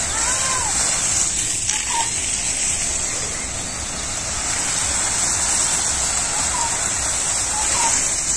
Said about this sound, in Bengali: এই যে মোটর দিয়ে জল দিতেছি